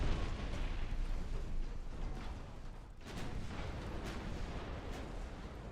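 A torpedo strikes a warship in the naval strategy game Ultimate Admiral Dreadnoughts, heard as a dense, rumbling explosion wash with a brief dip and then continued roaring blast noise, sustained and heavy.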